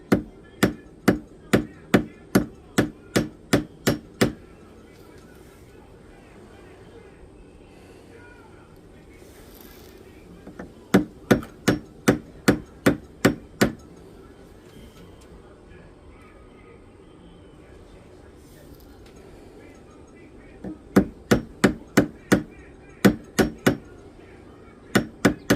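A small hammer taps a metal ring shank to straighten it during ring resizing, sharp metallic strikes in three quick bursts of about ten evenly spaced taps, close and clear over a faint background.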